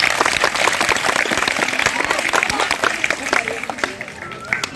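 Sustained clapping from a crowd at a school magic show, loud and continuous with sharp individual claps standing out, while a voice talks over it.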